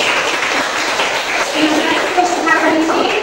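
A classroom of students applauds in a long, dense wash of hand claps, steady and fairly loud throughout, with faint voices mixed in beneath the clapping.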